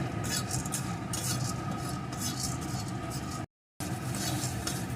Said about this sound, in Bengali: এখন আমি এই মশলাটা একটু ভেজে নেব মিডিয়াম টু লো আছে এইভাবে নাড়িয়ে নাড়িয়ে মশলাটা ভেজে নিতে হবে যেন পুড়ে না ওঠে